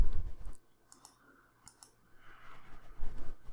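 A computer mouse clicks a few times in short, crisp pairs near a quiet desk, separated by brief pauses, with a faint hum and low rustle between.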